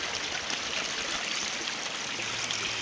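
The Ciherang river in Sukabumi rushes steadily and up close, a dense continuous wash of flowing water with no voices.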